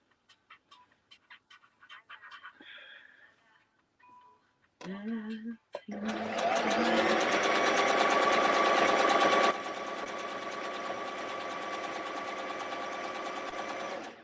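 A sewing machine stitches curtain fabric in a long, loud, steady run of fast needle clatter, preceded by scattered clicks and brief bursts of handling noise and a short spoken moment.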